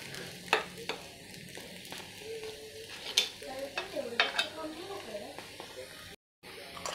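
Appe frying in ghee in an appe pan, a steady soft sizzle with scattered clicks and scrapes of stirring and turning, close and moderately quiet throughout.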